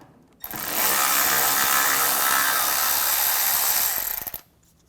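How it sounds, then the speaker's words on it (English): A steady whirring power tool runs for about four seconds on a 10mm socket, backing a nut off under the hood of a 2009-2013 BMW 328i xDrive, loud and close with an abrupt start and stop. "Using a 10mm socket, take this nut out."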